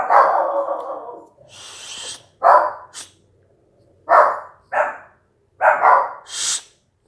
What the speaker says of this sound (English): My dogs are barking uncontrollably.